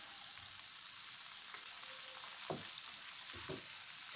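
Scampi and prawns sizzle steadily in a pan, a continuous bright frying hiss broken by a few soft stirring knocks and scrapes, close and moderately loud with no talking.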